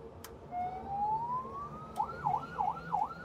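An ambulance siren gives a long rising wail on the highway, sweeping upward for about a second and a half before breaking into a steady warbling up-down cycle, loud and close over low road rumble.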